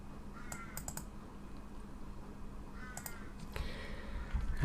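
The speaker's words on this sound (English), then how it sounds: "I've got a bird outside my window squawking, apologies for that, you can hear it" A bird squawks outside a window in a few brief, harsh calls, faint and distant, against a soft background hiss and light clicking from a computer keyboard.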